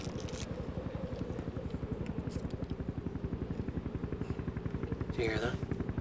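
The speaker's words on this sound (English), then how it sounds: "Helicopter." Helicopter rotor thumping steadily in a fast, even rhythm through a snowy wilderness, the beat constant for the whole stretch, with a brief voice near the end.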